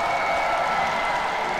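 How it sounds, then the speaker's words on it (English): Steady, dense applause from a hometown crowd at a fencing match, loud and unbroken throughout. "There he is, getting a big rounding applause from the fans here, his hometown fans"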